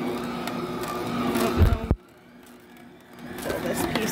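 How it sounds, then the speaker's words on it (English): A Deluxe stand mixer on a custom knead setting works homemade bread dough with a steady mechanical whir. The motor cuts off abruptly partway through, then a faint background hum slowly returns. "I put it on the custom knead and it does it for 8 minutes."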